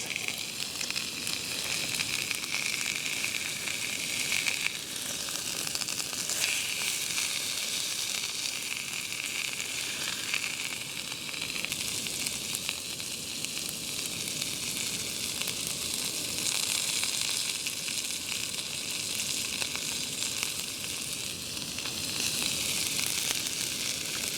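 Picanha steak sizzles loudly and steadily on an outdoor grill, a continuous close crackle that holds without a break and has no voices over it.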